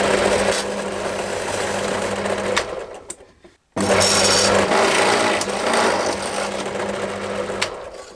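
A power drill with a 9 mm bit boring holes runs steadily at a loud, close whine, stops briefly, then starts again for a second long stretch.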